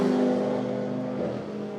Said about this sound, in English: I'm pretty sure Spalding's Commodore is not going to continue. He's pulling into the lane, back end of the car wreathed in smoke.